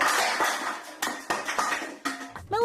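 Pans and other kitchen items are flung across a room, landing in a series of loud clanging, clattering impacts at irregular intervals, with a ringing metallic wobble at the close.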